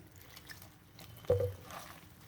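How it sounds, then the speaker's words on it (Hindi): Water is poured into methi pakora batter in a home kitchen, making one brief, soft splash and gurgle against a quiet background. "अब पानी ऐड करेंगे थोड़ा थोड़ा करके,"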